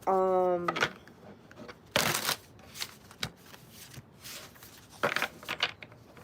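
A tarot card deck is shuffled in several short, crisp riffling bursts spaced across the moment, with a brief vocal tone at the start and quiet room sound between the shuffles.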